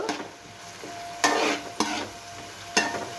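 Turmeric going into a hot pan for tamarind pulihora, with a low sizzle under three or four sharp spoon strikes and stirring bursts against the pan, close by.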